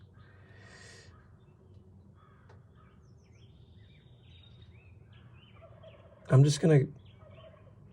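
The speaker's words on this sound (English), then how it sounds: "We have a lot of wildlife here if you hear turkeys." Wild turkeys gobble outdoors in one loud, close double burst near the end, after a quiet stretch of low background hum with a few faint spoken words early on.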